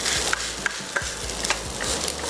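Fried egg noodles, made from six bricks of noodles, are pressed flat in a wok and sizzle steadily, with light scraping taps from a spatula at regular intervals and no voices.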